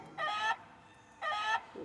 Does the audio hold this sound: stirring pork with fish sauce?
no